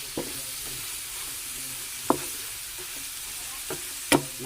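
Shrimp and pork sauté in a pan for ginataang langka, giving a soft, steady sizzle with a few sharp utensil clinks and scrapes as the mixture is stirred.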